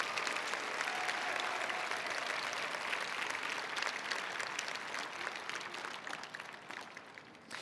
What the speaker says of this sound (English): Let's give all of our dedicated volunteers and our judges here a big round of applause.